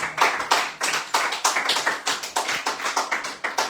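Steady rhythmic clapping in a church, sharp claps falling on an even quick beat, loud and close, with no voices.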